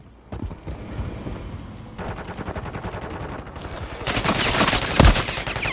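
Fast, rattling automatic gunfire in the 2023 video game Call of Duty: Modern Warfare III, a steady stream of close shots that grows louder near the end.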